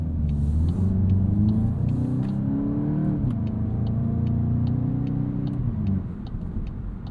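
A 2026 Volkswagen Golf GTI S, the base MK8.5 hot hatch, pulling away from a stop as rush hour begins, its engine note rising and settling through the gears, a loud steady drone heard from inside the cabin with no talk.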